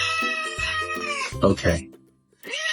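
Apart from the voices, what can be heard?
cat meowing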